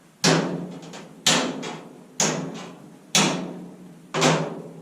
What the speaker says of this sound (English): you're going to take a center punch, and you're going to center punch your spot welds